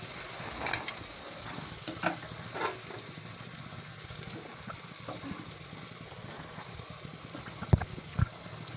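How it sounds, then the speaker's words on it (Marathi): Potatoes frying for a quick dry sabzi, with a faint, steady sizzle and a few soft clinks and scrapes as they are turned in the pan. "मस्त असे फ्राय झाले आहे बटाटे"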